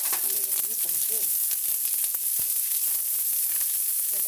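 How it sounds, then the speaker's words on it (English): Onions sauté in a hot pan for homemade cheeseburgers, a steady close crackling sizzle with faint stirring scrapes throughout. "right now what we're doing is that we're just sauteing some more onions to use on our cheeseburgers"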